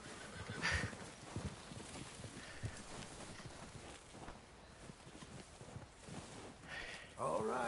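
Horse hooves clip-clop steadily at a moderate pace in Red Dead Redemption 2, against a busy, noisy game background, fairly faint, with a brief whinny-like sound near the end.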